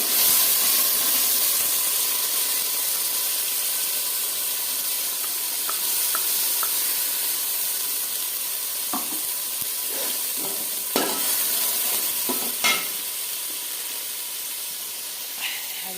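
Whole garam masala, panch phoron and dry red chillies sizzle in mustard oil in a kadai, a steady close hiss with a few brief sharp crackles and pops, no talking.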